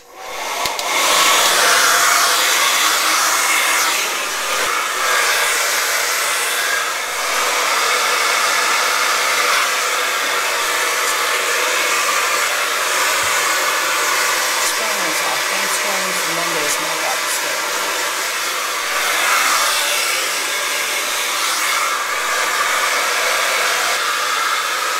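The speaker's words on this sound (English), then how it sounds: "I'm gonna blow dry till it's dry with diffusion" Hair dryer fitted with a diffuser blowing on high while drying hair, a loud, close, continuous whooshing roar that runs without a break, only shifting a little in tone as the dryer moves.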